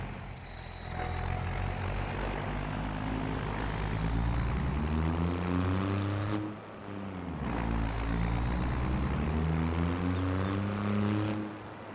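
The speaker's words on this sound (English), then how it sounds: "I want you guys to hear this 12 valve sing" A 12-valve diesel truck engine in a farming video game drones loudly, its pitch climbing and falling as it revs up, dips briefly, then rises again in a steady rumbling whine with no talking.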